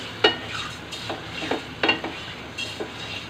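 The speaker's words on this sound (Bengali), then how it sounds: "মাছটাকে কিছুক্ষণ মশলার সাথে কষিয়ে নিব" Mixed fish pieces stir-fried with spices in a pan, with scattered scrapes and sharp clinks of a spatula over a soft, steady sizzle.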